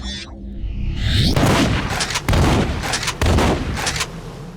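Heavy, booming shotgun blasts ring out in the video game Section 8, several loud shots in quick succession with a mechanical reload sound at the start.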